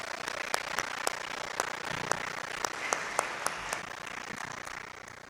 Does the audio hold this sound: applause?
yes